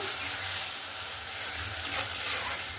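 Taro stolons sizzling in a hot pan with a splash of water while being stirred, a steady close hiss and crackle with faint scraping, no voices.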